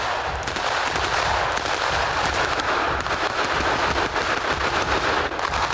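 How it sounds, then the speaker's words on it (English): Dense, continuous gunfire from armoured vehicles and ground troops in a coordinated military assault, rapid overlapping bursts and cracks at moderate distance with no pauses and no voices. "This is a coordinated assault with armoured vehicles firing alongside nearby troops on the ground."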